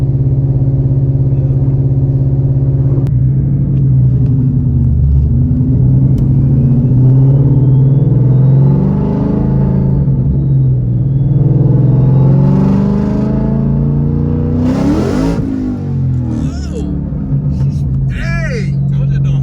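A 2016 Ford Mustang S550 with a 2.9L Whipple supercharger and stiff solid suspension components, heard from inside as a loud, constant engine drone and road rumble with voices talking over it.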